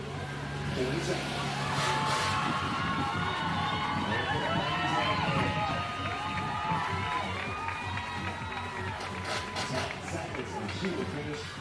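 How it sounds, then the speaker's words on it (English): Spectators cheer and shout for athletes during team events at the CrossFit Games, a lively, sustained crowd roar with scattered whoops and a little clapping, mixed with voices. "Big round of applause for all of our athletes out there."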